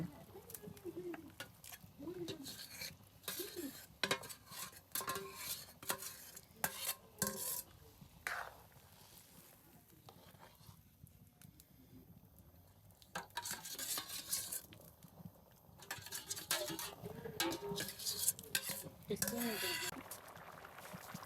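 Prawns go into a pan of prawn pilaf, sizzling while a utensil scrapes and stirs against the metal in uneven bursts, with a voice talking over it and birds audible in the background.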